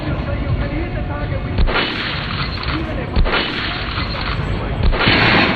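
Rifle gunfire in the video game Metro Last Light, a few heavy booming shots spaced out over a loud, dense rumbling game background, close and forceful.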